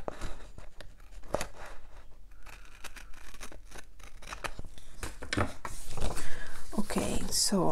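Scissors make a series of sharp, crisp snips while trimming punched pages for a Happy Planner, the cuts coming in irregular bursts close by, with a person talking over them.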